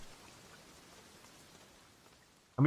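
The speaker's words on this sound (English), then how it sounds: "we get a rap followed by rain sounds" Steady soft rain patter from a video game soundtrack, a faint even hiss that runs alone and unbroken before being cut off by a sudden louder sound at the very end.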